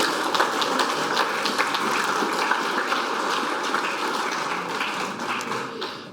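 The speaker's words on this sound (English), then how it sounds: "Please, everyone, another round of applause for Matt Canavan and all our speakers tonight." An audience applauds the speakers at an evening energy symposium, a steady, full round of clapping lasting several seconds and fading slightly toward the end.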